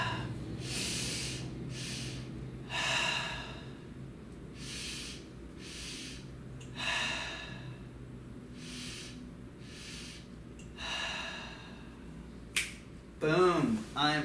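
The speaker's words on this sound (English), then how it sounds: "So I'm gonna do three nice big deep breaths here." Three big deep breaths drawn and blown out slowly, each a long airy rush separated by pauses, close to the listener, ending with a brief sharp snap and a burst of voice.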